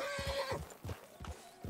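A horse in Red Dead Redemption 2 gives a short whinny, followed by several soft, irregular hoof clops at close range.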